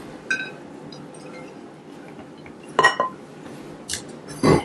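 Wild weed salad scooped onto a plate with utensils, giving a few sparse clinks and scrapes against the dish, the loudest near the end, over quiet room background with no talk.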